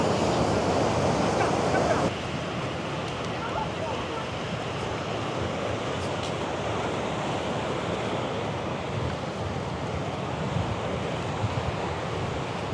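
Ocean surf rolls in steadily at Rosemary Beach, Florida, a continuous broadband wash with some wind noise on the microphone, louder for the first two seconds and then settling to an even, moderate roar with no talk.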